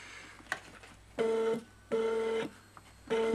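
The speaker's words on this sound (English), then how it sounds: "The motor that makes all the noise." Motor on an Eaglemoss build-your-own 3D printer powering up for the first time, sounding as three droning, tonal buzzes of about half a second each with short pauses between them, close and fairly loud.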